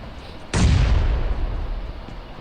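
A heavy grenade blast in the mobile battle-royale game PUBG Mobile, a single loud boom with a sharp onset and a long rumbling decay, over a low background hum.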